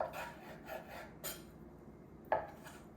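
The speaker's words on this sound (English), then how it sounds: "the first thing I'm going to do is I'm going to trim off the fat on the sides" A knife trims fat off lean beef steak for jerky, giving soft rasping and rubbing strokes on a cutting board with a sharper scrape near the end, close and quiet.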